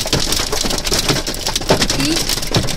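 Hailstorm pelting a car in central Sofia, a dense continuous rattle of stones striking the roof and glass close by, loud and unbroken throughout, no talk.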